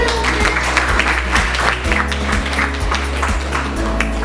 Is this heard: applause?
yes